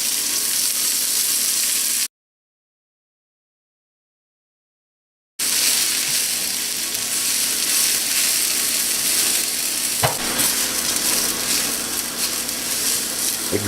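Leeks frying in extra virgin olive oil in a very hot cast-iron pan make a loud, dense, continuous sizzle up close, broken by a few seconds of silence, then resuming with one sharp clack partway through.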